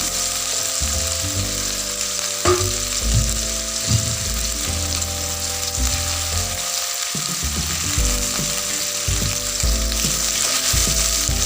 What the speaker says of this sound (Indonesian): Tumis hingga mengeluarkan wangi.